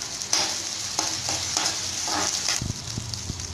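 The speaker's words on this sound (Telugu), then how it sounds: "ఆనియన్ ఇలా ఫ్రై అవ్వాలి." Onions frying in a pan for Telugu-style poha give off a close, steady sizzle and crackle, with a few soft stirring scrapes near the end and no talk.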